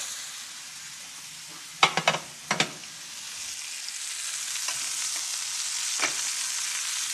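A big cut of meat sears for braising in a hot pan, giving a soft, even sizzle, broken by a few sharp knocks and clatters as it is laid in and then continuing alone, quiet and steady.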